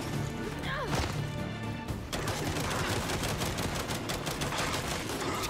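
Rapid bursts of gunfire and impacts in Gears of War 5 with a brief electronic tone near the start, dense and continuous, close and loud, no talking.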